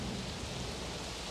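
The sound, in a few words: heavy rain falling on a dirt race course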